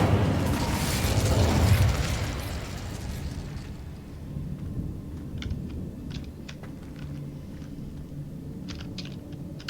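A fire spell cast in Hogwarts Legacy: a loud whooshing, roaring burst of flame that fades after about two seconds into a low crackle, with faint clicks and game ambience continuing underneath.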